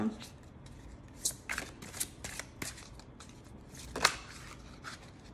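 Angel oracle cards are shuffled and drawn, giving soft, quick riffling flutters and crisp snaps up close, with a voice speaking quietly underneath.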